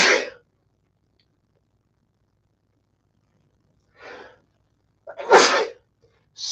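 A person sneezes up close during a morning live stream: a short burst at the start, a quieter intake of breath a few seconds later, then a loud, full sneeze, with near silence in between.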